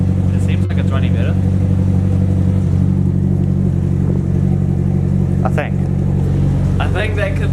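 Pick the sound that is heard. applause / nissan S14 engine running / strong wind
nissan S14 engine running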